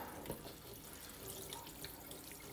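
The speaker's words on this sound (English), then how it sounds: "The hot water pressure here is not very good." Hot water runs steadily from a tap over an iPhone 11 Pro Max under weak pressure, a continuous close hiss of splashing flow with light drips and no talking.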